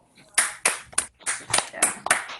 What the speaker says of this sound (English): So we still have to clap for Zoe